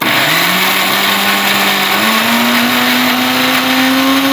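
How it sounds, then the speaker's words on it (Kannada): A mixer grinder whirs loudly and continuously as it grinds cumin and spices to a fine paste, its motor pitch rising slightly partway through before cutting off abruptly at the end. "ನೈಸಾಗಿ ಗ್ರೈಂಡ್ ಮಾಡೋಣ ಇದನ್ನು"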